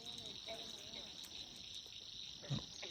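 A dense night chorus of frogs and insects near water where people are fishing, a steady high trill running throughout with soft, continuous background noise.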